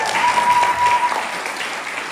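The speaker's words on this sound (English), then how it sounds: "Can we get a round of applause for that?" Applause from the audience at a school Parents' Weekend performing arts showcase, a dense, even wash of many hands clapping for a couple of seconds.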